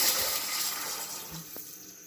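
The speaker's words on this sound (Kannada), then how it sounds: "ಈಗ ನೀರು ಹಾಕ್ತಾ ಇದ್ದೀನಿ" Water pours into a cooking pan with peas and onions in a continuous, splashy rush that tapers slightly, close and unaccompanied by talk.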